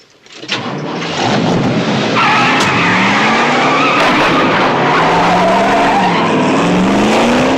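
A car skids hard with a sustained, loud tire squeal over a roaring engine, the screech rising and shifting pitch for several seconds as the vehicle slides, heard alone without talking.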